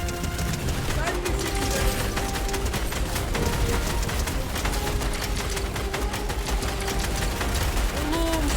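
Rapid, dense bursts of gunfire from a Fortnite match crackle almost nonstop at a steady loudness, mixed with game effects and background sounds.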